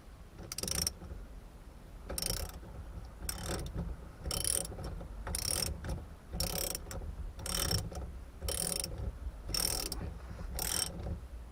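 A ratchet tightens the bolts on a Momo steering wheel, with about ten evenly spaced bursts of rapid clicking and short pauses between them, close by, no talking.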